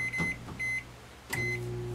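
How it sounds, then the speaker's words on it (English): A microwave oven hums in a kitchen, its low drone broken by a few short electronic beeps, one near the start, one shortly after, and another before the hum picks up again, with no speech. "It's my dinner. I'll microwave it how I want."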